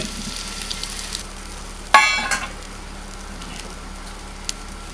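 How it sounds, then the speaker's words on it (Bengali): Basmati rice fries in a pan with onion, garlic and ginger, making a soft continuous sizzle broken by a sharp clattering stir about two seconds in before settling back to a quieter crackle. "চালটা একটু ভালো করেই ভেজে নিতে হবে, তা না হলে ভাতটা জড়িয়ে যাবে।"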